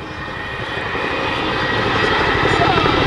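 A Chinook helicopter maneuvering at a 2007 airshow display gives a loud, steady rotor and engine roar that grows slightly over a few seconds, with a commentator talking over it.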